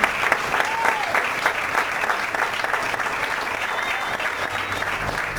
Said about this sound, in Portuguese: Vai aplaudindo, vai aplaudindo, vai aplaudindo